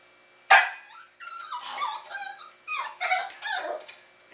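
A westie puppy being groomed gives one sharp bark followed by a string of high whimpers and whines, close and clear in a quiet room.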